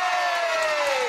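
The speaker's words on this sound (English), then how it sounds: "the biggest cheer of all for you!" A studio audience at a children's television show cheers in a steady, loud wash of crowd noise, with one bright high tone sliding slowly downward across it.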